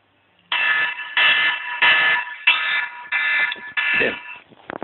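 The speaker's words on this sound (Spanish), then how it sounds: "al final sonará la siguiente alarma." A debate timer alarm buzzes in six loud, evenly spaced electronic bursts, each about half a second long, with brief gaps between and no talking over them.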